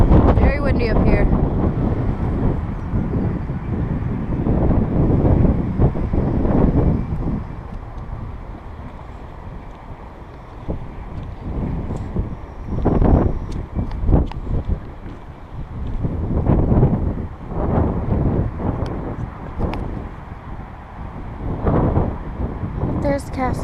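Strong wind buffets the microphone on a hilltop in Scotland, a loud low rumbling roar that swells and fades in gusts, with a person speaking now and then beneath it.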